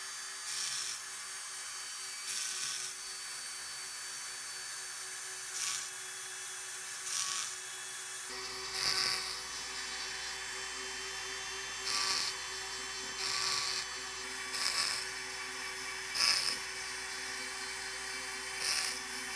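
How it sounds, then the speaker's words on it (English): A small power carving tool shapes a wooden snowflake ornament. It gives a steady high whine, with repeated short grinding bursts every second or two as the bit bites into the wood. "Let's go back to the power carving."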